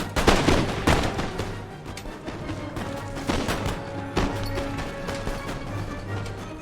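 Musket line volleys in the video game Empire Total War crack out as repeated sharp gunfire bursts, several loud overlapping shots over a sustained rumbling battle din and a low droning hum, with no talking.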